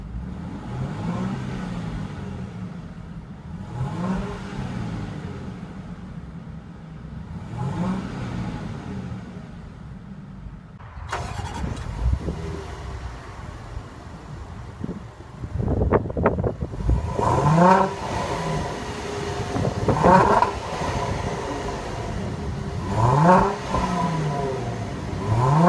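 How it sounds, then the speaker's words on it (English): A 2014 Range Rover Sport supercharged V6 HSE idles, then takes several sharp revs through the exhaust, each rise and fall loud and close, with a steady idle in between. "Let's go ahead and give it a few revs and let you guys listen to the exhaust pipe."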